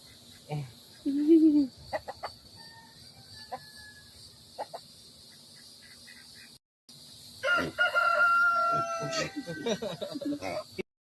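Quail in a backyard coop call out in short chirps and clucks, while a person speaks over the birds at several points.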